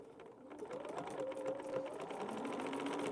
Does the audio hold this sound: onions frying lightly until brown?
no